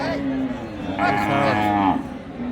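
Cattle, including Sahiwal cows with calves, at a busy village livestock market in Dinajpur; one cow moos in a drawn-out low call that rises and falls, over the steady murmur of the crowd and people talking.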